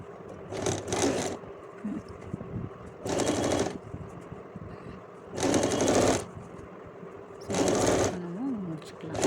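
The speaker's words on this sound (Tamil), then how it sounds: "டபுள் ஸ்டிச் கொடுத்து நீங்கள் முடிப்போம்" A sewing machine stitches waistcoat fabric in four short, loud bursts of rapid whirring, with quiet pauses between runs.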